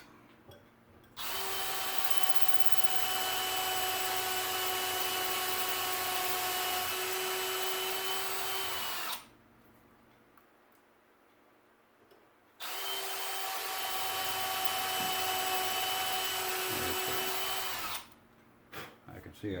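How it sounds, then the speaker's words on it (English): A 6-inch aircraft drill bit boring a hole in gunsmithing work: two long bursts of steady, high-pitched power-drill whine, each lasting several seconds, with a quiet pause between and a brief spin-up at the end. "Finish drilling that hole to the full depth."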